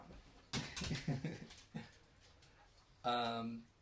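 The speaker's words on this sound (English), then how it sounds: "my housemate's dog wants to come play." A dog wanting to play whimpers indoors with a single close, high, drawn-out whine near the end, after a person speaks.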